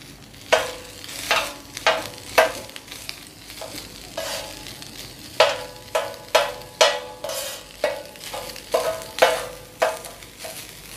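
Pre-fried chicken for shawarma being stirred and turned in a hot pan, a quiet sizzle punctuated by repeated sharp metallic spatula scrapes and knocks in an uneven rhythm, no talking.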